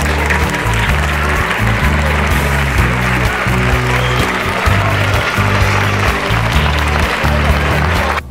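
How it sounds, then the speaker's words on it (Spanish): Football fans at the Zubieta training ground applaud players on the first day of preseason, a continuous outdoor wash of clapping under a steady low rumble that persists throughout. "y ante los aplausos de la afición que se ha acercado hasta Zubieta"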